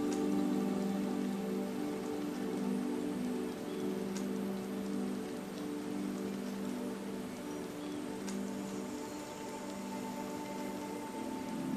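Tropical rain falls steadily, with a dense patter of drops on leaves and surfaces. A faint low hum runs beneath the close, even shower.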